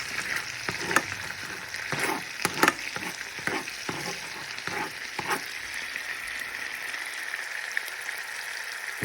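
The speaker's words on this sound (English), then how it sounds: "I'll be adding a little red wine hot sauce. I'll be stirring this." Chicken wings sizzle in a pan with red wine hot sauce for Buffalo wings, a bright steady frying hiss broken by irregular scraping and clacking strokes as they are stirred, close and fairly loud, no speech.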